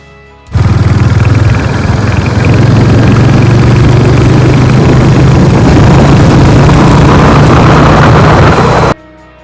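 A motorbike engine drones loud and close on a long highway ride from Hyderabad toward Srisailam Dam. The hum holds steady for several seconds under rushing wind, then cuts off abruptly, with no talking.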